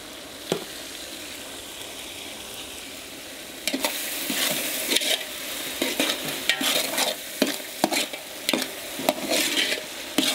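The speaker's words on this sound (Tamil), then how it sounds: "நல்லா வதக்கணும் தக்காளியை" Tomatoes and slit green chillies sauté in a pan for chicken biryani, giving a constant frying sizzle broken by repeated sharp spatula scrapes and stirring clacks.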